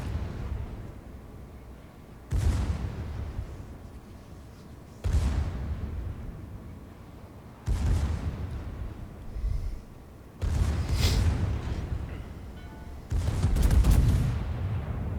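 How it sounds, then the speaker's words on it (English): Heavy warship guns fire in five or six spaced booming salvos at the battleship Iowa in World of Warships, each blast loud and close with a rumbling decay between shots. "Dave obviously takes shots at the Iowa."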